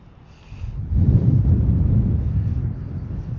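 Steady low rumbling wind on a cold day buffeting the microphone beside a flooded river, rising after a quiet start and staying loud and continuous.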